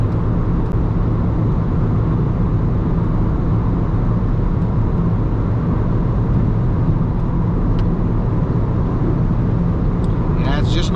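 An Alfa Romeo Mito accelerates hard at night on the Autobahn, its engine droning steadily under loud, constant road and wind roar inside the cabin, with a voice talking faintly underneath.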